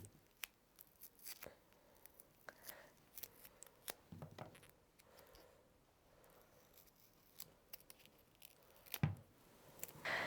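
Scissors snip through a sticky adhesive strip to cut it in half, giving several quiet, short clicks and crinkles spread out over about ten seconds, with a slightly louder rustle near the end.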